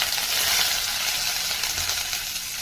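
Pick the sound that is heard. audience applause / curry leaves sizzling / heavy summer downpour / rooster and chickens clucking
curry leaves sizzling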